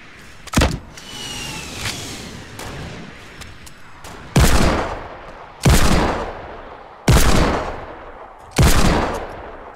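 Rockets fired in Fortnite: four loud, evenly spaced blasts, each with a booming tail, preceded by a sharp shot and scattered game effects.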